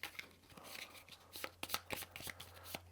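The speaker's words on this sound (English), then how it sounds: "So we'll get out our scavenge deck again and give that a shuffle." A deck of cards for the Shadows of Brimstone board game is shuffled close by, giving quiet irregular riffles and sharp snaps of the cards, with no talk.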